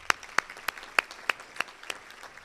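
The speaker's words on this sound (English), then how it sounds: "a big round of applause for both of our sponsors tonight" A handful of sharp, separate claps ring out at a college foundation's annual dinner, about eight evenly spaced and fairly faint, thinning to scattered hand strikes rather than full applause.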